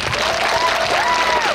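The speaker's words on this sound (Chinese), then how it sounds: "我想要借大家的手，给我们乐队老师一个掌声，好吗？" A crowd at an outdoor singer's concert during a Taoyuan Pingzhen military-village cultural festival gives the band teacher a short burst of dense applause, with a sustained wavering tone carrying over it.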